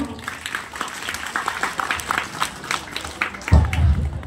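An indoor audience claps steadily for a young schoolgirl who has just finished reciting a poem. A dense, even patter of hands continues for several seconds before a louder, low rumble closes the clip.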